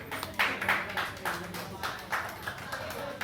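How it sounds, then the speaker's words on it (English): Scattered audience clapping at a 25th anniversary event: a handful of separate sharp claps spread unevenly across the moment, mixed with a person talking. "You can clap here if you want."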